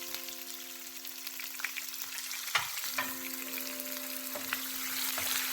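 Onion, curry leaves, green chilies and cumin frying in oil for a dried-fish and drumstick curry make a soft, continuous sizzle with occasional sharp crackles and stirring clicks over a low, steady hum.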